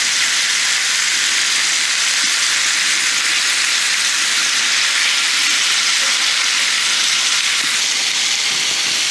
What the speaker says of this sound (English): I'm going to sear this on all sides while we're waiting for the oven to heat up anyways